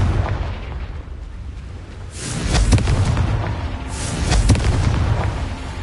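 The Confringo fire spell explodes twice in the video game Hogwarts Legacy. Two sharp, booming bursts a couple of seconds apart rise over a low background rumble, each with a crackling tail.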